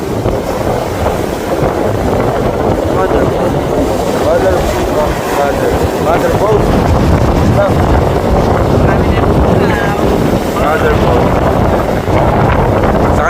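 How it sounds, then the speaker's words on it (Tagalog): Strong wind buffets the microphone aboard a motor boat at sea, a loud, steady roar filling the whole stretch, with voices faintly in the background. "Lakas ng hangin"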